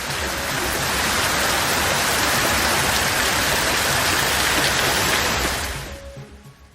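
Heavy rain pours down in Sirkazhi as a loud, dense, unbroken roar that holds steady for several seconds, then drops away abruptly near the end.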